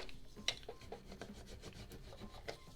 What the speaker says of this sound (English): Burnish it down real good.